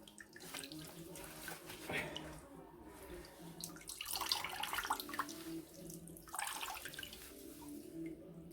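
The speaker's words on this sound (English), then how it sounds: "So I'm just going to wring it out." Soaked motorcycle exhaust wrap for a Honda CB400T is wrung out by gloved hands over a bucket, giving faint irregular splashes and trickling water in bursts, close by.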